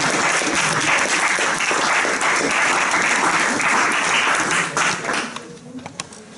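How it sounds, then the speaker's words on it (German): A warm burst of audience applause greets a speaker at a talk, thick and even for about five seconds before thinning out and trailing off into a few scattered claps. "Begrüßen wir sie mit einem herzlichen Applaus."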